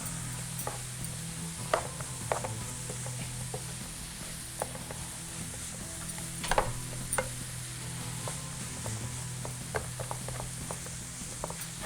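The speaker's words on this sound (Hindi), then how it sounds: "इसको इस तरह से मिक्स कर लें और इसको आपने कुक कर लिया" Vegetables for vegetable soup are stirred and cooked in a pan, with a steady low sizzle and scattered sharp clicks and scrapes of the utensil, close up and with no talking.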